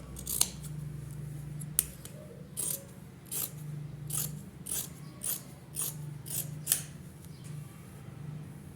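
Scissors cut fabric for a summer gandoura dress, with close, crisp snips repeating in a steady rhythm over a low background hum, and no talk.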